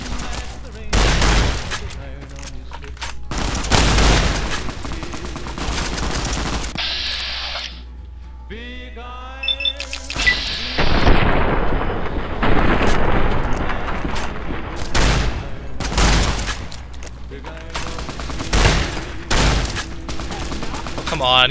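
Caravan shotgun blasts in the video game Fallout: New Vegas, several loud booming shots spaced irregularly, mixed with game combat noise, while a player talks over the action.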